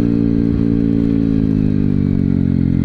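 A modified Yamaha WR 155 supermoto motorcycle idles loudly up close through its aftermarket exhaust, a deep, steady, throbbing burble with a slight dip in pitch over a few seconds.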